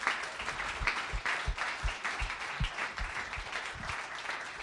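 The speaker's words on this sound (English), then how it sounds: "give a round of applause to Ben and Pat and Dave" An audience applauds at an action lab launch event, with steady crowd clapping and a few louder, closer individual claps sounding through it at a regular beat.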